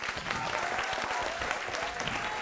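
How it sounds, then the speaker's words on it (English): Sustained audience applause at an Indian improv comedy show, a dense steady wash of many hands clapping from a live crowd, fairly even in loudness throughout. "Give yourself a big round of applause."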